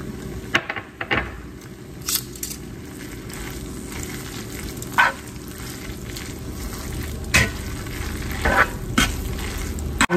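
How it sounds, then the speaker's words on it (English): Spinach sizzles in a hot pan for carbonara while it is stirred, a continuous frying hiss broken by occasional scraping strokes of the utensil, close and clear with no talking. "Stir and add in your spinach."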